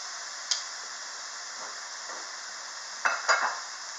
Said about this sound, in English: I'm going to put this in the pan around the onions